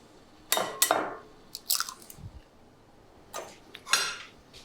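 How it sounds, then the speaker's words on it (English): Eggs cracked for smoked salmon scrambled eggs, heard as a few close, crisp cracks and crunchy shell snaps in two short bursts, with quiet pauses between. "crack your eggs"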